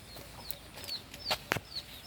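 Chickens clucking close by, with a chick nearby, giving several short, sharp clucks and chirps in an irregular rhythm over a quiet outdoor background.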